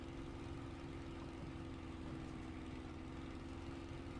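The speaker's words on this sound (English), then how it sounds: "Oh, even the engine note changed as I went upside down." Spitfire aircraft engine in Microsoft Flight Simulator drones at a steady, loud, continuous pitch, with a strong low tonal hum and no voices over it.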